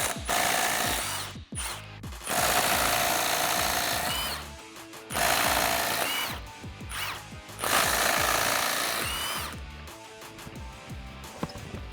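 Impact wrench hammering at lug nuts on a lifted Jeep Wrangler TJ with a 19mm deep socket, loud rattling bursts of a few seconds each, stopping and restarting several times close by.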